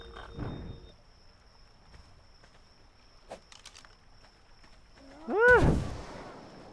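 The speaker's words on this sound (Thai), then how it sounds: "อ๋อ มันเป็นระเบิด ระเบิดที่ทำให้แสบตาเนี่ยนะ" Sparse quiet clicks and pops lead up to a single loud, booming tear gas grenade blast in ARK: Survival Evolved on the Ragnarok map, with a rising whine near the end.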